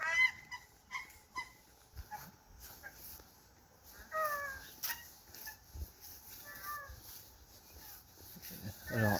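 Ducks, geese and other fowl on a small poultry farm in November call with scattered honks and squawks at close to middle distance, some overlapping, over a faint outdoor background.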